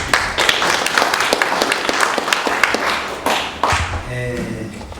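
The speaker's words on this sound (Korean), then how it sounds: "한 번 더 박수." An audience applauds at a Korean presentation on cases of harm from preferential treatment of former officials, a burst of close, rhythmic clapping that fades out as a voice begins speaking.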